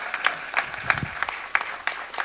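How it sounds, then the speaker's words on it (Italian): Audience applause at a ceremony in Taranto naming a paediatric oncohaematology ward after Nadia, honouring her and the children; sparse, fairly soft clapping with distinct individual claps over a short stretch. "Un applauso per Nadia e per questi bambini."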